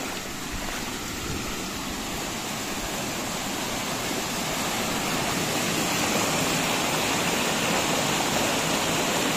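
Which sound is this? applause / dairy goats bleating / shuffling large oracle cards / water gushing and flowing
water gushing and flowing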